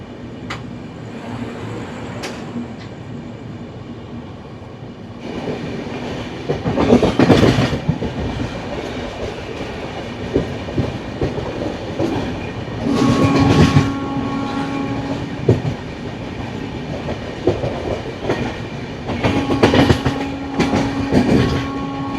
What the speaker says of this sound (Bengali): ট্রেন কিন্তু এখন কন্টিনিউ 127-128 কিলোমিটার প্রতি ঘন্টায় ছুটে চলেছে